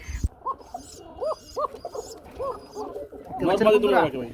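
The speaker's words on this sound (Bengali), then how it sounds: "এই যে দেখেন বাচ্চা চিচি করতেছে" Pigeon chicks in a loft of running pigeons give a series of short, rising squeaky calls, close and moderately loud, followed by a louder burst of mixed sound with a person talking nearby.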